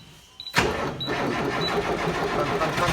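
A car engine cranks and catches after a power steering pump repair, with a short whirr before it settles into a steady, fairly loud idle.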